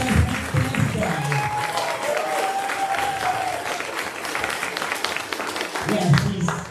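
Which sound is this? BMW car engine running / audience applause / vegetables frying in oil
audience applause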